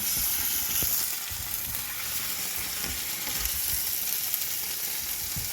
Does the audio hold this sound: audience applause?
no